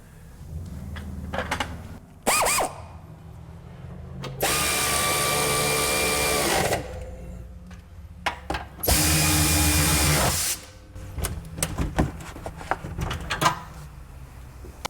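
Power tool tightening lower control arm and suspension bolts on a Honda Odyssey, sounding in two sustained loud bursts of about two seconds each, separated by clanks, ratcheting clicks and handling noises.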